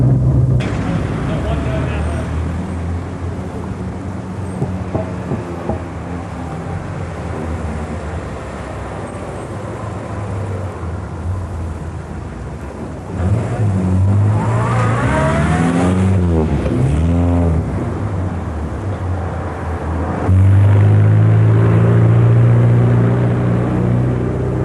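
A Morris Minor 1000 drives along with a steady engine drone that rises as it revs through the gears, heard from inside the car, with a voice talking over it throughout.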